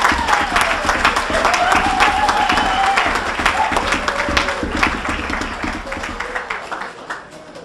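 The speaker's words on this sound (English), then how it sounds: "Let's give them a round of applause." Applause at a high school fall sports banquet fills a large room, loud sustained clapping that slowly fades, with a few voices and cheers mixed in.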